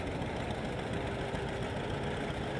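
An antique, roughly hundred-year-old John Deere tractor on steel wheels runs at a pulling event in Edmonton, Canada, giving a steady, unbroken mechanical engine drone with a rough, knocking texture, loud and close.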